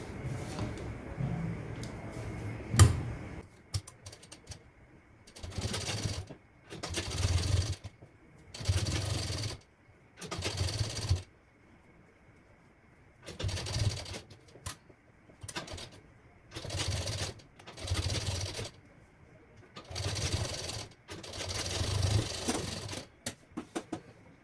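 Sewing machine stitching a princess cut blouse, running in about eight distinct bursts of a second or two each, separated by short pauses, close and moderately loud with no talk.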